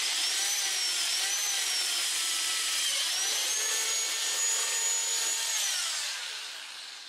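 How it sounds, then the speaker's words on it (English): A 90-degree drill drives fasteners into a Polaris General 1000 UTV fender flare, giving a steady close high-pitched whine whose pitch bends up and down as the load changes, alone, easing off at the end. "I'm going to stay with using the 90-degree drill"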